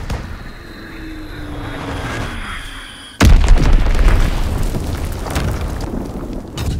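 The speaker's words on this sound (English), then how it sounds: "Enemy bomb incoming, get to cover!" A sudden, loud enemy bomb blast in the video game Call of Duty WW2. A droning aircraft passes first, then comes one heavy boom with a long rumbling tail.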